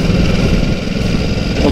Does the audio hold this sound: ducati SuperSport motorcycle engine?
yes